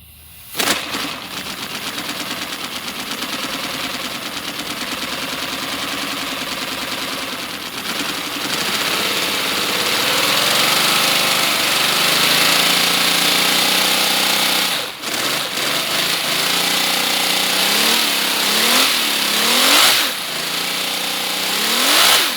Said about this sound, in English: This might be the last time we see the inline 6 fully functioning.